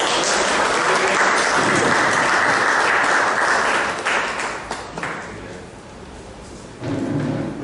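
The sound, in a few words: audience applause at club meeting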